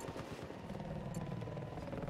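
An enemy helicopter in the video game Battlefield 4 drones steadily with a dense, continuous rotor and engine roar, loud and unbroken throughout, with no voices on top.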